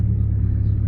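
A faulty car engine under throttle gives off a steady, loud, low rumbling drone with a heavy pulsing bass hum, a single brief sustained burst.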